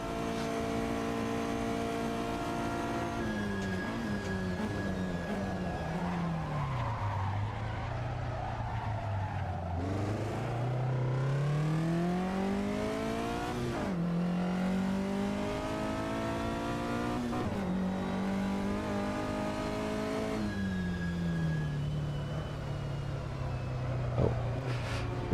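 Vintage GT race car in a sim racing game, engine droning and whining continuously through upshifts and downshifts, pitch climbing and dropping repeatedly, with tyre squeal under cornering, steady and close for the whole stretch.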